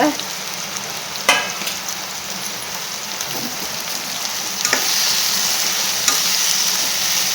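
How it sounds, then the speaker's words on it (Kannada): Bitter gourd fries in oil in a pan, giving a loud, steady rain-like sizzle with a few sharp scrapes of stirring, close up and without talk. "ಇವನ್ನ ಹಾಗಲಕಾಯಿ ಹಾಕ್ತೀನಿ, ಅದ್ರಾಗ ಹುರ್ಕೋಕೆ ಸ್ವಲ್ಪ ಹುರ್ಕೋಬೇಕದ."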